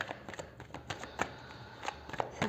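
Tarot cards being shuffled by hand during a reading, a quick run of soft flicking riffles and light taps close up and fairly quiet, with no talking.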